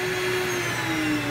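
A vacuum cleaner being used to suck up wasps beside a house, running loud and close with a steady roaring whine whose pitch drifts slightly.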